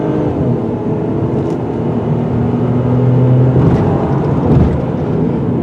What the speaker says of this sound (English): You would think this little 3-cylinder engine wouldn't have any guts